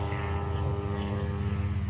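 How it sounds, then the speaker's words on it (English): A police helicopter flies overhead, its engine and rotor producing a steady, loud, low droning hum with a rhythmic throb, continuous throughout with no speech. "here comes a helicopter"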